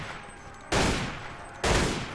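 Gunfire in the Mount & Blade Warband Red Wars mod comes as two sharp, loud volleys, each a sudden blast that slowly decays, spaced under a second apart over a quiet battlefield hum.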